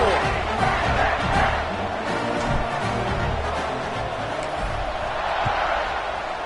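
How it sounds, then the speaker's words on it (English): A crowd buzzes in the College Football 26 video game during a Pitt vs. Delaware matchup, a dense continuous roar of stadium noise with scattered cheers and indistinct voices. "this crowd is buzzing after that last score"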